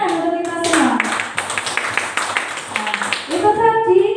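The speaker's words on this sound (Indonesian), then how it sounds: "Tepuk tangan untuk kita semua." Group clapping in an Indonesian education presentation, a few seconds of brisk, close hand claps that swell and fade, with voices of adults and children around the bursts.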